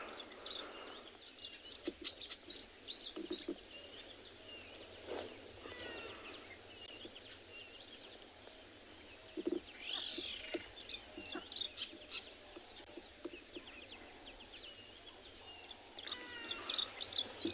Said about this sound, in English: if you include the birds that we can hear and the birds that we can see, there's probably at least 20, 25 species at this one waterhole